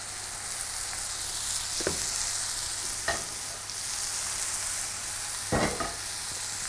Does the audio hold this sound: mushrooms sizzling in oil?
yes